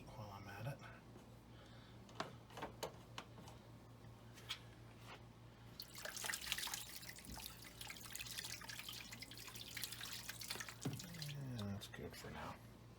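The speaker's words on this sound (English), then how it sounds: "let's add a little more water" Water pours and trickles into a pot of bison bone stock with peppercorns, a soft splashing stream that grows fuller midway, faint and close, with a person talking over it.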